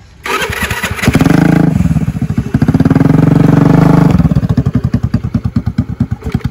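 A Honda Dio scooter fitted with an SC Projector exhaust starts up close by, with a sputter before two loud throaty revs, then drops into a fast, popping idle putter.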